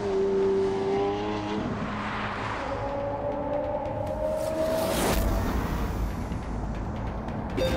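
A hybrid supercar accelerates in The Grand Tour Game, its engine note rising loud through gear changes, then a sharp burst and a rushing whoosh, with no talk over it.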